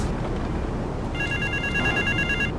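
Payphone ringing in Grand Theft Auto 3, a steady electronic bell tone that starts partway in and continues over a hiss of city ambience.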